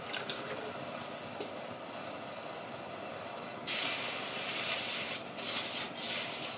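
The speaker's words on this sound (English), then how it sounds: "And I'm trying to cool it with water as quickly as possible." Water sprayed onto a hot steel panel during metal shrinking, a sudden loud hissing rush that starts partway through after a quieter stretch of low background noise, then continues with fluctuating intensity.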